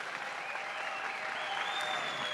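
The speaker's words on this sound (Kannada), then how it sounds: "ಒಂದು ಜೋರಾ ಚಪ್ಪಾಳೆ ಪ್ಲೀಸ್." An audience at a drum festival percussion solo claps loudly and steadily, dense applause filling the whole stretch without a break.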